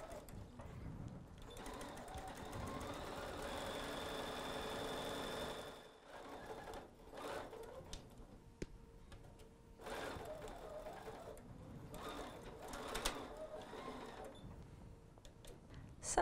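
A domestic sewing machine stitches a fabric travel pillowcase with a bulky accent seam, humming steadily at low volume in runs that pause and restart, with occasional quiet talk in the room.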